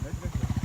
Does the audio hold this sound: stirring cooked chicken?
no